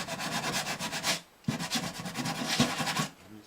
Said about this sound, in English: We just want to smooth that down where that rough sandpaper roughed it up pretty good.